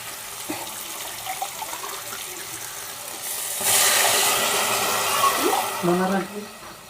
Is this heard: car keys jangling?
no